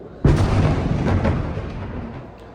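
A loud explosive boom from Iranian missiles being intercepted by Israel's Iron Dome over Tel Aviv, with a sharp onset and a long rumbling decay that fades over about two seconds.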